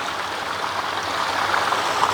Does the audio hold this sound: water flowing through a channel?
yes